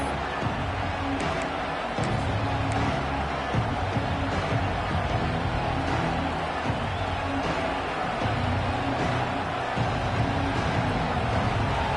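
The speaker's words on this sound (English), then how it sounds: "This crowd ready to make its presence known." A packed crowd at a college football game fills the stadium with a dense, continuous roar and scattered swells of cheering throughout.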